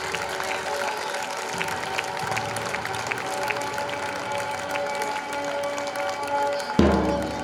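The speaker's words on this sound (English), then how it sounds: "Let's give a huge round of applause for Iram Kid." Applause from a crowd at an annual sports meet, a dense steady patter of clapping that carries on for several seconds, with a thump near the end.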